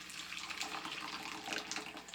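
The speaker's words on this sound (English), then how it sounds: "here comes my hot water from my brand new Krups water pot" Hot water poured from a new Krups water pot, a continuous bright splashing trickle that runs steadily without pause, close and moderately quiet.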